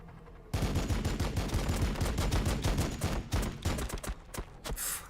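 Gunfire in the strategy game Warhammer 40K Battlesector, a sudden loud burst of rapid automatic shots that keeps rattling, thinning into scattered separate cracks toward the end.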